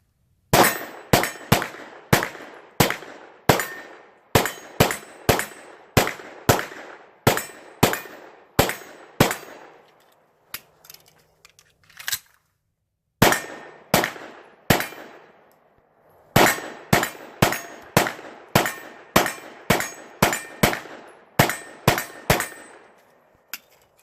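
A Hudson H9 pistol fires 45 rounds in fast, evenly spaced shots, each a sharp crack with a metallic ring. The rounds come in three strings separated by short pauses, loud and close, with no talking.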